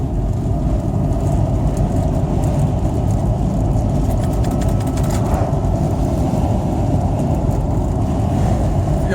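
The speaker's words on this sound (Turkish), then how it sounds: "aracımız şu anda dördüncü viteste" A car driving steadily in fourth gear at roughly 70–80 km/h with a broken clutch cable, giving a continuous loud engine and road drone that stays even throughout with no talk.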